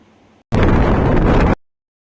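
Cold wind in hilly, green countryside buffeting a microphone in a sudden roaring gust lasting about a second, then cutting off abruptly.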